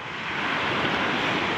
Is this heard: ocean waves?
yes